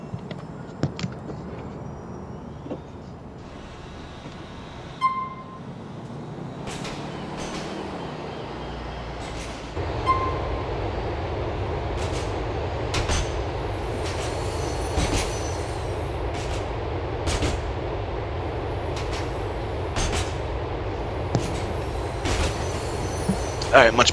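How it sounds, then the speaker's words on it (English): A train in Grand Theft Auto IV rolls along with a steady rumble and rhythmic clatter, punctuated by sharp hissing bursts like air brakes; a voice speaks briefly near the start. "Oh, I love riding trains."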